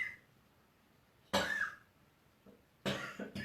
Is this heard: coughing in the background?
yes